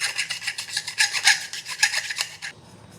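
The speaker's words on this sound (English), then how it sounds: "Still gonna file the inside just to be safe." A hand file scrapes the inside of a fitting during SR20DET swap cleanup, about a dozen quick rhythmic rasping strokes up close before stopping near the end.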